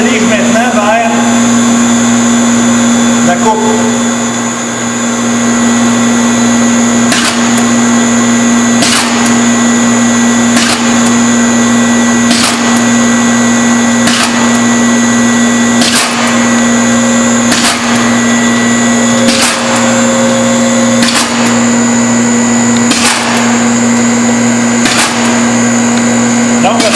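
A soap-making machine extruding a continuous soap log runs with a loud, steady motor drone and whine, punctuated by regular sharp clicks or knocks every second or so, close and unbroken throughout.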